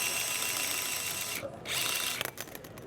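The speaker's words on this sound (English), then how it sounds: "cordless 20-volt XR copper tubing cutter, which is capable of cutting this 3/8 inch outer diameter soft copper tubing" A DEWALT cordless 20V XR tubing cutter runs through 3/8 inch soft copper tubing, giving a steady motorized whine that briefly cuts out, resumes, then ends in a few short clicking bursts.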